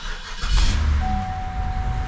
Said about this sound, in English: And it should start the car.